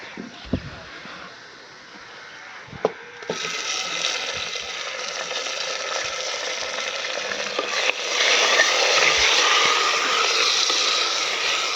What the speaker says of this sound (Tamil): இப்போ தக்காளி போட்டுக்கலாம்பா.